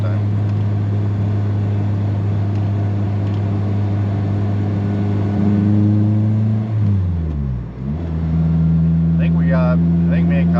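Loud idling engine of a K-swapped Honda Del Sol, a steady low drone that dips briefly as the revs drop, then settles back, with a voice faintly audible near the end.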